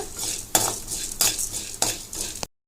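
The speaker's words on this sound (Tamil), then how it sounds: "இப்போ இந்த பருப்புங்களை நம்ம கோல்டன் கலர்ல வறுத்து எடுத்துக்கலாங்க" Lentils dry-roasting in a pan for ginger chutney, stirred with a utensil in three loud, evenly spaced scraping strokes, close up, with a faint gritty rustle between strokes and no voices.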